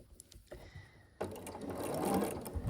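Sewing machine chain piecing small quilt block pieces, a short start then a steady close mechanical hum and clatter building in loudness, with no talk.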